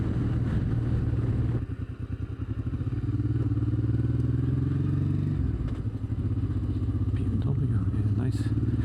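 A BMW motorcycle engine drones steadily and loudly throughout, with a steady low rumble and small dips in pitch, heard up close from the rider's position with wind and road noise mixed in.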